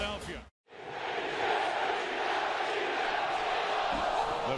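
Philadelphia Eagles fans in a packed stadium at a 2008 week 17 home game against the Dallas Cowboys, a large crowd singing and cheering together in a loud, sustained roar after a short pause.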